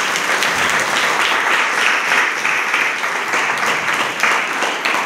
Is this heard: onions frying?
no